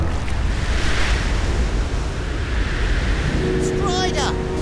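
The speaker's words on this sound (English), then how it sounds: "These waves are getting too big." Big ocean waves in an animated cartoon roar as a loud, continuous surf wash, with a brief tonal whine rising near the end.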